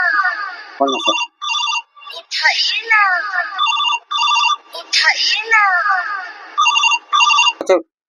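A telephone rings with a melodic electronic ringtone, repeating in regular bursts with brief gaps, loud and close, with no talk over it.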